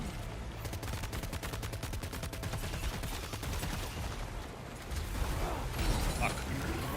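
Continuous rapid gunfire from guns in a video game, a dense mechanical rattle throughout with a voice talking over it.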